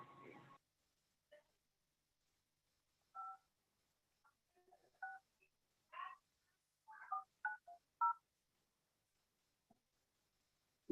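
An outgoing call placed from a court's online meeting room produces a series of faint, separate touch-tone dialing beeps in an irregular rhythm, with quiet gaps between them.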